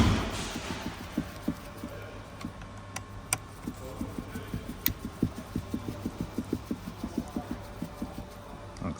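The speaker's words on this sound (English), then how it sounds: "Once you've got the screws, tighten them up." Small screws being tightened on a Hyundai IONIQ headlamp levelling switch: a long run of soft, close, evenly spaced ticks from a turning screwdriver, with a few sharper clicks.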